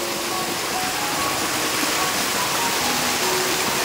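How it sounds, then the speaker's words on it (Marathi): A small village spring in the rainy Konkan countryside, water flowing steadily in a continuous close rushing wash with no pauses and no voices. "ते बघा हे आहे आमच्या गावचं छोटंसं एक असं झरा आहे."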